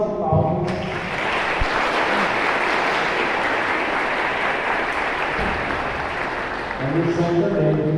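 A church congregation applauding during Mass, a dense sustained burst of clapping filling the hall for several seconds, with voices and a little speech at the start and end.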